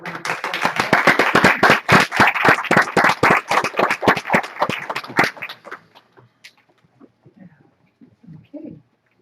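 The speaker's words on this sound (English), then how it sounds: "I think you deserve a round of applause." A round of applause at a school board meeting, a few people clapping in quick uneven strokes for several seconds, then tapering off into scattered claps and quiet murmurs.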